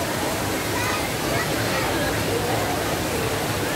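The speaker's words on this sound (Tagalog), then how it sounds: "Ayan yung falls." Mahihay Falls pours down in a steady, loud rush of water, with a crowd of people around it whose voices blend into the background under the constant roar.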